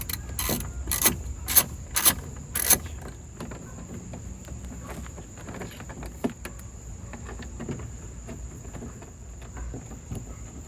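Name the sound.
fastening bolts into Ram TRX truck door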